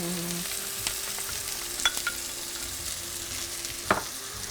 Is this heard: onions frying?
yes